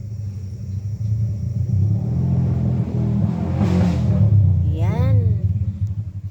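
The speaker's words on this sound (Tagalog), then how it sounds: "Ang ingay ng mga motor." Motorcycles passing on a road near an outdoor kitchen, a continuous engine rumble rising and falling as they go by, with one voice speaking briefly over the noise.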